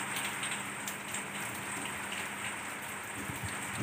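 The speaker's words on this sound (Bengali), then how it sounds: "বাইরে কিন্তু খুব বৃষ্টি পড়ছে" Heavy rain falls outside a home, a steady, even patter and hiss heard faintly from indoors with no pauses or voices.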